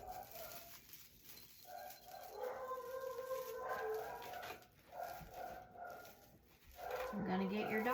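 Dogs indoors howl and bark in drawn-out, rising and falling cries, moderately loud and close, with a few breaks between bursts.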